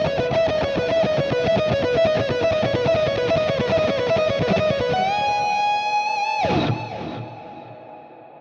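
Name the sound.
electric guitar lead tone with quarter note digital stereo delay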